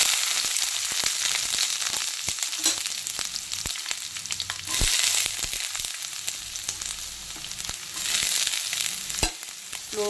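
Onions frying in oil in a pot for a fish curry, a steady close sizzle with scattered crackles and stirring scrapes, continuous and fairly loud, with no talking.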